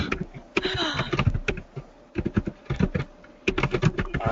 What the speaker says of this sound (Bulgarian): Да, някой пише на клавиатура, най-вероятно.